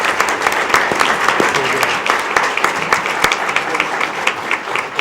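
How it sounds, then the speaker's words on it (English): An audience at a school board meeting gives a round of applause, steady clapping from a moderate crowd that stays close and even for the whole five seconds, with a faint murmur of voices underneath. "Let's give a round of applause."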